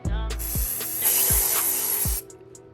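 Glittery spray paint hisses from a can onto a pair of DIY pants, one sustained close burst of about a second over soft background music.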